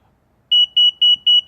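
Tesla Model 3 fitted with a Hansshow power trunk controller beeping close up: four loud, evenly spaced double beeps, each a pair of quick high-pitched tones, with no talking.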